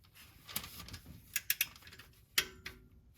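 Torque wrench set to 29 pound-feet tightening the oil drain plug on a Honda Fit, a handful of close, crisp clicks and ratcheting ticks spread unevenly over a few seconds, with no talk.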